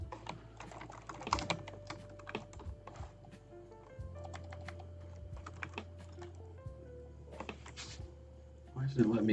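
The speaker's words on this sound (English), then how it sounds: "just typing something" Typing on a computer keyboard during a live build session, a steady run of light clicking keystrokes close to the microphone, with a low background hum and a brief louder burst near the end.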